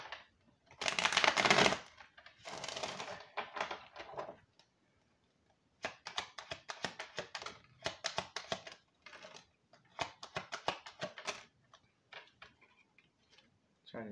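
Double Kipper oracle cards being pulled and laid out: soft papery shuffles and flicks, then a run of quick light taps and slaps as cards land one after another, close and fairly quiet.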